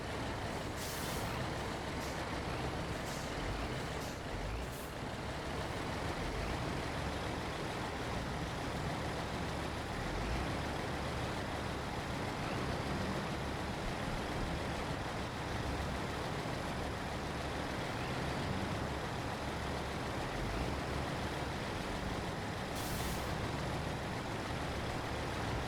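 A logging truck's engine runs steadily in a video game, a continuous broadband rumble with hiss and brief air-brake-like bursts, constant and loud throughout.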